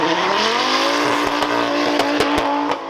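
A BMW race car fitted with a Volvo engine revs hard and climbs through its gears, loud and close, with sharp clicks and knocks over the engine's rising whine.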